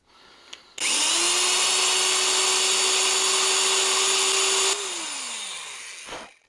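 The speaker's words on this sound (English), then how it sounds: "I think this drill bit's dull." A dull bit in a power drill grinds into the steel jaw of a Wilton bullet vise, making a loud, steady whining drone for about four seconds, then winding down as the motor coasts to a stop.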